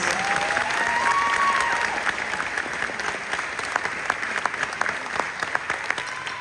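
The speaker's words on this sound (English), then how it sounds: "Can we get one more round of applause for these wonderful students?" An audience applauds honor band students at a District V concert, with steady, dense clapping that holds across the whole stretch and thins slightly toward the end.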